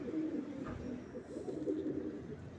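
A pigeon of a high-flying Sialkoti or Qasoori breed, held closed in a hand, gives soft low coos close by, a faint murmuring call rising and falling over a quiet background.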